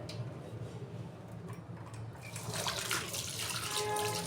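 Water pours steadily into a bowl of pumpkin raita, with a splashing, bubbling rush that grows slightly louder partway through, close by, with no talking.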